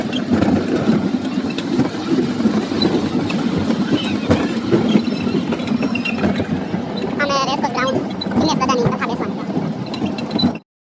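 A sky train runs along its rails with a steady rumbling hum and faint rhythmic clatter, while people talk nearby and some higher tonal sounds rise briefly near the end.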